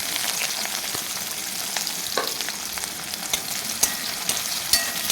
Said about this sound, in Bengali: কড়াইয়ের মধ্যে তেল দেওয়া হয়ে গেছে। আমি এটার মধ্যে পেঁয়াজগুলো দিয়ে দিচ্ছি।